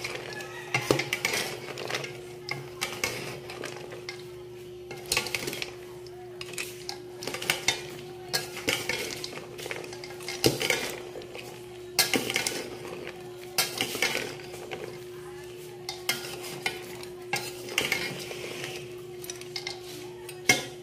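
Lomi noodles stirred in a pot, with a ladle clanking and scraping against the metal in irregular bursts over a faint background hum, close by.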